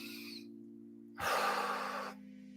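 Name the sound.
slow deep breath in and out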